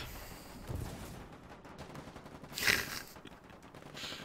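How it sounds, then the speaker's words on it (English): Machine gun fire in a war video game, distant muffled bursts and a sharper volley midway, rumbling under a steady background of battlefield noise. "Machine guns."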